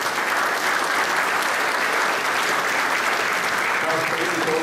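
An audience at the opening ceremony of the 19th European Quran recitation competition gives steady, dense applause, a close and even wash of clapping from start to finish.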